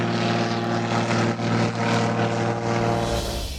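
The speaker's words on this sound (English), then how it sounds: "Look out for the plane!" A propeller airplane drones loudly overhead, a steady close engine roar with a slight swell and fade as it passes, with no talk.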